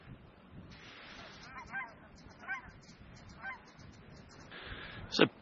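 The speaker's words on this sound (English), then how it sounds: "It's a pretty good sized flock of geese." A good-sized flock of geese honks outdoors on a windy day, faint and spread out, with several separate honks and one sharper, closer call at the end over steady wind noise.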